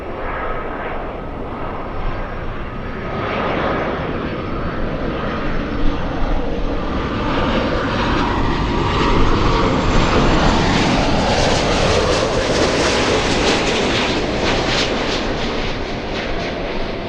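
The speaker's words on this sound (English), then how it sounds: "That's Alaska Airlines 810 with the old Hawaiian colors. A330-200." An Alaska Airlines Airbus A330-200 in old Hawaiian colors at LAX sends out a sustained, loud jet engine roar, a steady broadband rumble that brightens and swells slightly toward the end, with no voices.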